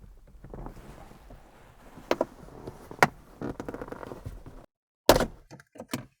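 Plastic dashboard trim panel on a Honda Accord being pried loose by hand, giving a series of close, sharp cracks and thunks over low handling rustle, with a brief pause before a loud snapping pop and a few smaller knocks.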